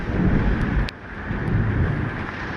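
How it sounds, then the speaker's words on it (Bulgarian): Violent thunderstorm with hurricane-force wind shaking trees, heard from indoors as a loud, continuous roar of gusting wind with a brief sharp crack partway through. "И тая грамотевица не спира."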